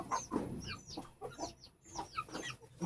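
Guinea fowl cluck at a nesting spot in a rapid series of short, rhythmic chattering calls, close and fairly loud, with brief pauses between bursts.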